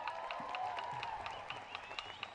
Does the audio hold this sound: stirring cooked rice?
no